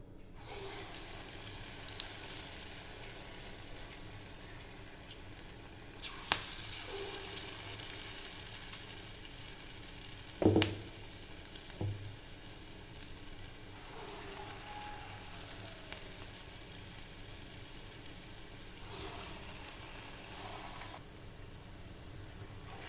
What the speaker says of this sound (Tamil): எண்ணெய் நல்லா சூடு வந்துடுச்சு இப்போ சின்ன சின்னதாக போண்டாவாக போட்டுக்கலாம்